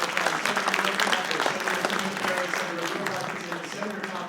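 An audience at a Guam Women's Chamber of Commerce event claps in a sustained, dense burst of applause that stays loud and even for several seconds.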